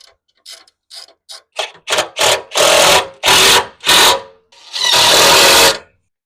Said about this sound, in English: we have 3 bolts that you could drive in right here with a T40